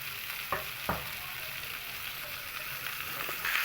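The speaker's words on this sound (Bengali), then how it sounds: "এখানে লাউগুলো আমি মশলার সঙ্গে ভালো করে মিশিয়ে নেব।" Chopped bottle gourd stirred with spices in a frying pan gives a soft, steady sizzle, broken by two clear scrapes of the spoon near the start.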